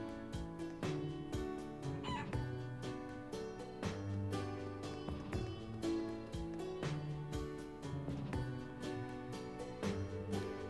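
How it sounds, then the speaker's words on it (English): A video game chicken clucks in short, repeated bursts, faint and mixed into a busy musical soundtrack with steady rhythmic percussion throughout. "Chicken."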